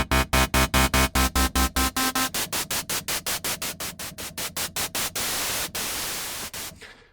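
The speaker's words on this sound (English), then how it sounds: "There's also a dedicated noise source." Dedicated noise source of a Sequential Pro 3 SE synthesizer, played first as rapid rhythmic pulsed bursts of loud static that soften and shift in color, then swelling into a steady hiss that cuts off abruptly.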